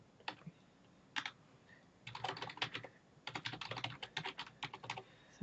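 Quiet, close typing on a computer keyboard in irregular bursts of rapid clicks separated by short pauses, with no talk.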